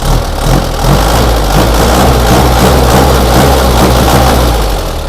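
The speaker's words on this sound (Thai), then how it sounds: "เครื่องยนต์นะครับไม่มีเทอร์โบเป็น NA นะครับผมเครื่องยนต์เสียงเพาะๆ" A naturally aspirated 2.5-litre diesel pickup engine runs steadily up close, a deep rumbling idle with a throaty low clatter and slight swells in revs, with no voices.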